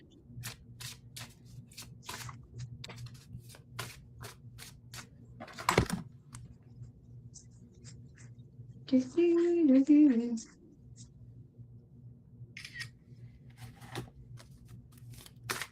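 A tarot or oracle deck being shuffled by hand, a soft steady run of papery riffles and flicks close by in a quiet room, with a brief voice partway through.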